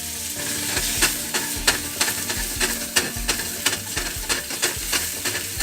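Mushrooms sizzle loudly in a hot pan alongside a seared steak, with a steady frying hiss broken by repeated sharp scraping knocks of stirring at an irregular rhythm.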